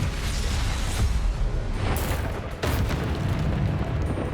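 A Confringo fire spell blasting in Hogwarts Legacy, a loud rumbling boom with fiery crackle amid ongoing spell combat, one sharper impact standing out partway through.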